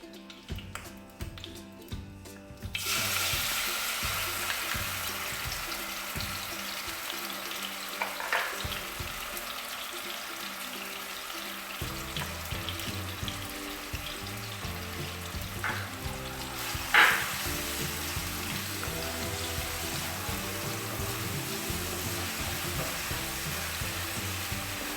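Garlic-ginger paste hits a hot pan for chicken jalfrezi and fries with a steady, loud sizzle and occasional stirring scrapes. A quiet start gives way to continuous crackling frying that runs to the end, with no talking.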